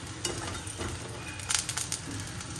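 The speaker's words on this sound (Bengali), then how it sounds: "আর আমি এদিকে বেগুন ভাজছি গরম গরম।" Eggplant slices fry in hot oil, a steady close sizzle with soft crackles and a few brighter spattering bursts, with no talk over it.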